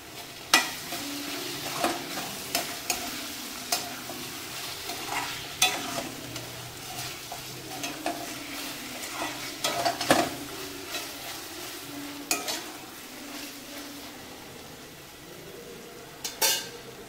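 Mushroom pasta ingredients with coriander leaves being sautéed and stirred in a pan: a steady soft sizzle under repeated scraping and clinking of a spoon against the metal, close and fairly quiet, with no talking.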